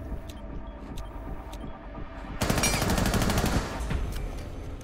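An enemy player's gunfire in a competitive shooter match: a sudden loud burst of rapid automatic shots lasting about a second, with faint scattered game sounds around it.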